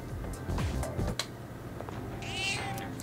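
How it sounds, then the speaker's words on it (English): A cat in the video game Persona 3 Reload lets out a meow among background game music and effects, fairly close, with a brief soft sound after. "No, but there is a cat."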